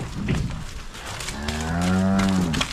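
A cow on a Batangas farm gives a single loud, drawn-out moo that rises and holds, heard close with faint farm background.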